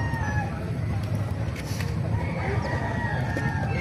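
A Gilmore Hatch rooster crows close by at a busy chicken market, its call rising over a dense hubbub of crowd chatter and clucking fowl.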